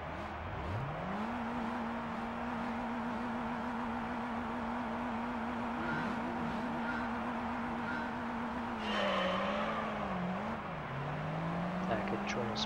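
A Mercedes race car accelerates in Gran Turismo 3 during an amateur league European championship race, its engine droning steadily and rising in pitch through gears, with someone talking over it throughout.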